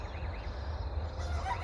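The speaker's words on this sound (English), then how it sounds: "the chickens aren't out yet, so they're fussing" Backyard chickens still shut in cluck and fuss faintly in the distance, a few short wavering calls over a steady low outdoor hum.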